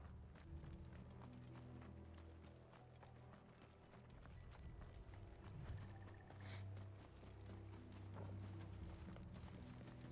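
Horse hooves clip-clop steadily in Final Fantasy 16, a continuous trotting rhythm over low game ambience and mechanical rumble, moderately loud and without speech.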